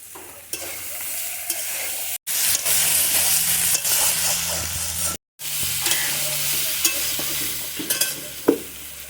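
Vegetables for a vegetarian rasa stirred and sautéed in a pan, a loud continuous sizzle with scraping spoon strokes, broken by two brief silent gaps.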